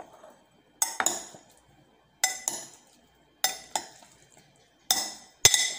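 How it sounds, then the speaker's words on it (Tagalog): A utensil clinks and scrapes against a bowl while stirring a mayonnaise and black pepper mixture, in four separate bursts of sharp metallic taps with quiet gaps between them, close and fairly clear. "Haluin natin."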